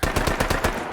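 NRAW rifle in Fallout 4 fires a rapid burst of about six sharp, loud shots in quick even rhythm, close up with a short ringing tail.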